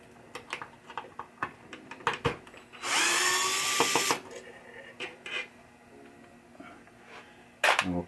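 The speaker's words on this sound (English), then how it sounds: "So now I just got to go through and take all these other screws out, replace them with the new longer ones" A power drill spins screws out of a 1972 Chicago Coin pinball machine in one loud burst of whirring of about a second, surrounded by scattered clicks, taps and handling knocks, with another short burst at the end.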